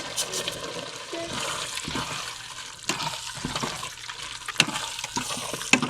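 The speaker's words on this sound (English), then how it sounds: "now we're going to put the rest of the broth into the pot" Broth pours into a pot of Louisiana gumbo, a steady splashing and gurgling of liquid with a few louder sloshes toward the end.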